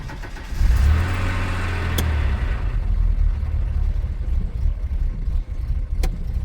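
A car engine with nearly 200,000 miles, just given its first fresh oil in five years, runs with a rough, uneven idle. It is a steady, close low rumble throughout, a little fuller near the start, with no voices.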